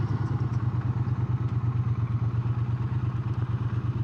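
Triumph Speed Twin 900 motorcycle ridden through English villages, its engine producing a steady, pulsing low throb with rapid rhythmic firing and some mechanical clatter, close and continuous throughout.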